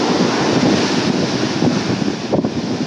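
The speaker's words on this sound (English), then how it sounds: "waves coming crashing down come with a lot of force" Ocean waves crash down with heavy force in a loud, rushing roar, thick with wind buffeting the microphone and surging unevenly from moment to moment.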